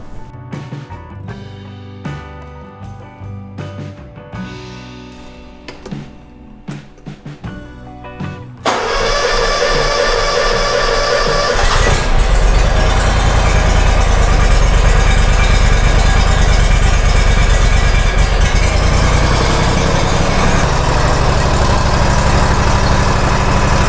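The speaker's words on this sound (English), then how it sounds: "Also warm up the engine before we do the oil change." A zero-turn mower engine cranks and catches, then runs loud and steady to warm up, a rough constant drone that dominates after some earlier clattering handling noises.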